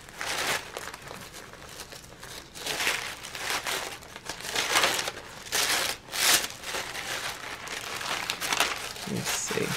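A stack of decorative art papers, some like tissue paper, crinkles and rustles steadily as the sheets are flipped through by hand, close and fairly loud with no talking.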